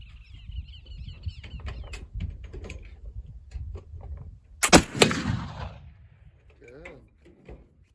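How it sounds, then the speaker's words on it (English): A single loud boom from a .54 caliber Kibler Colonial muzzleloader loaded with 100 grains of 1F Swiss black powder, outdoors, followed by a brief rumbling decay, with quiet handling noises and birdsong before and after. "this is shot number 4 with the 100 grains of 1F Swiss"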